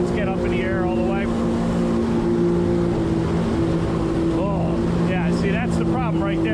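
A Yamaha Jetblaster Pro personal watercraft engine hums loudly and steadily on the water, a close droning whine, while someone talks over it throughout.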